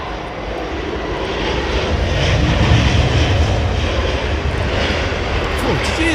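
An airliner lands at London Heathrow Airport in a crosswind, its engines roaring loud and close in a sustained, swelling rumble that dominates throughout.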